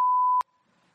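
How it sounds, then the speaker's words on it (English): A single loud, steady electronic censor beep holds for about 0.4 seconds, then cuts off abruptly, leaving near silence with only a faint trailing hum. "I just like the idea of using our beep effect again"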